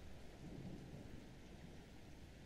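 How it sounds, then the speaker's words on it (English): Thunder rolls low and steady beneath continuous rain during a rainstorm, a faint, distant rumble blended with soft hiss of falling drops, with no voices. "I know, I hear the thunder."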